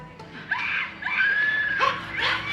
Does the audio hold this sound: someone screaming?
yes